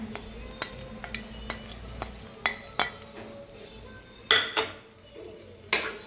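Chili powder is stirred into a Kottayam-style tuna and mango curry in a pan on a gas stove. A spoon knocks and scrapes against the metal in a loose rhythm of sharp clinks over a quiet sizzle.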